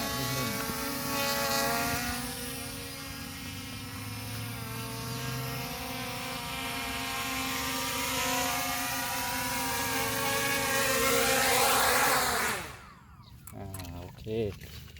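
A ZLL SG901 Pro Max FPV drone hovers with a steady, high-pitched whirring buzz that holds close and loud, then cuts out abruptly as it lands, with someone speaking over the motor noise.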